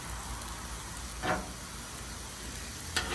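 Jambalaya pasta ingredients cooking down on a griddle give a quiet, steady sizzle with a couple of brief scraping or stirring swishes.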